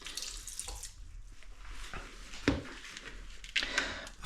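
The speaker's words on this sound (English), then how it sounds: "I'll just put a little bit more water on there" Water runs from a tap and splashes onto hands in a kitchen while energy balls are being rolled, a soft irregular trickle with a few louder splashes and clatters, no speech.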